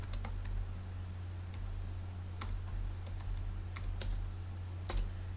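Fast typing on a computer keyboard during work in LabView, with steady irregular clicks and clustered keystrokes over a constant low hum, close and moderately loud, with no talking.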